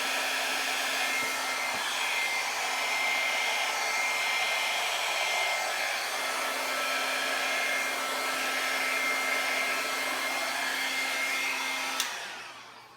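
A hair dryer blow-drying hair runs as one steady, loud, close whoosh for about twelve seconds, with no voices, then cuts off abruptly with a click near the end.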